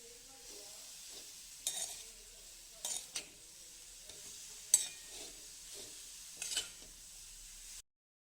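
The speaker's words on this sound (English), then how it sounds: "Make sure carrots is heated evenly by moving it well." Carrots for gajar ka halwa are stirred in a hot pan: a soft continuous sizzle broken by repeated scraping strokes of a spoon every second or so, close by, with no talking.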